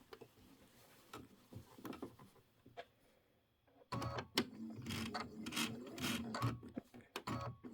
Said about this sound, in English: Let me grab my fabric and we are just going to sew across